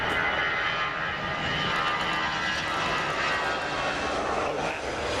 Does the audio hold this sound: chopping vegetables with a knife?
no